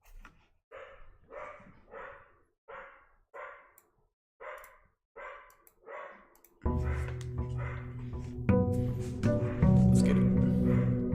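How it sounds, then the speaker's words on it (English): A dog barks in a steady series of about ten separate barks, close and fairly loud, before loud music comes in and covers the rest. "Oh my god, my dog's going crazy, bro."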